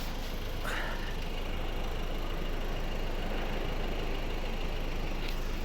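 A 2011 Volvo V50 D2 1.6 diesel engine idles steadily with a low drone and no break, recorded close up, with a faint knocking rumble underneath.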